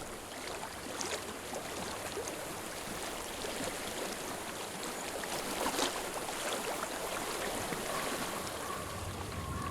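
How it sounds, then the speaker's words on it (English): Flowing water in the video game Hellblade: Senua's Sacrifice, a steady, moderately distant rushing wash that holds evenly throughout, with faint wind and no speech. "I hear water."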